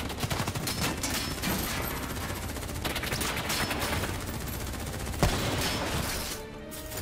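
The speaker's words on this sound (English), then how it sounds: "Who's shooting?" Sustained automatic gunfire rattles without pause in Call of Duty Black Ops III, dense and continuous for several seconds with one sharper shot standing out near the end before the barrage eases slightly.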